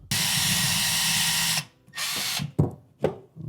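A power drill drives a screw into a wall stud during a garage wall organizer install, whirring loudly for about a second and a half, then giving several shorter bursts and clicks as the screw seats.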